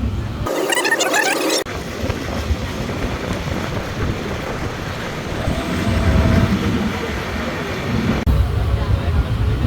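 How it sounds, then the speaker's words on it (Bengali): A departing passenger train rumbles steadily with low clattering and rushing noise, close and fairly loud, on a trip toward the Padma Bridge in Bangladesh. "অবশেষে ট্রেন ছাড়ছে"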